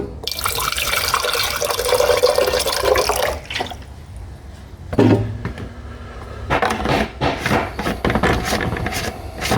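Hydrochloric acid poured into a gold refining container, a steady liquid splash and trickle for a few seconds, then quieter drips and a brief clink, followed by more irregular sloshing and pouring sounds.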